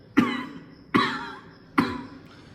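Three harsh coughs at regular intervals, close and loud, with a voice imitating a child's dry, barking allergic cough.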